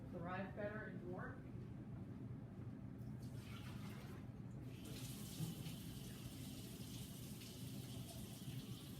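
Warm water runs from a tap into a container for a yeast lab experiment, a steady faint gush that shifts in tone as the flow changes, with brief talk at the start.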